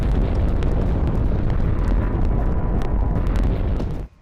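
A powerful explosion from an attack near an administrative building in Isfahan, heard as a loud, sustained roaring rumble that cuts off abruptly at the end.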